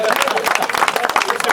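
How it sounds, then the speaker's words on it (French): Crowd applauding at a church basketball day, dense quick clapping mixed with murmuring voices and crowd noise, fairly close and loud throughout. "J'aimerais que vous tous vous applaudissiez aussi."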